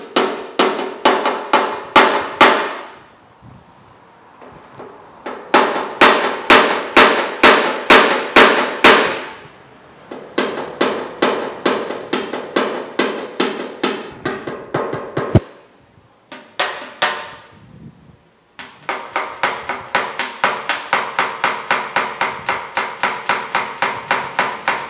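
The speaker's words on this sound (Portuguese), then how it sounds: "Posso usar o martelo? Claro." Repeated sharp hammer blows on car body metal during paintless dent repair, struck in fast rhythmic bursts of many taps separated by short pauses, close and loud with a metallic clang.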